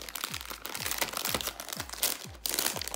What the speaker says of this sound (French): nous allons le sortir du plastique